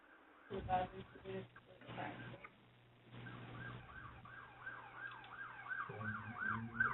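A wailing emergency siren rises and falls repeatedly in the distance, with voices and background noise over the first few seconds.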